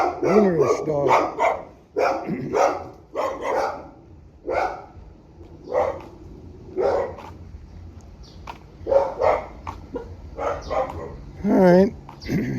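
A dog barks repeatedly at irregular intervals, some barks rising into yips and whines, fairly close, with someone talking over and between the barks.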